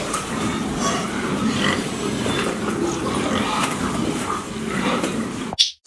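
A pig grunts and oinks continuously at close range. The sound cuts off abruptly at the end.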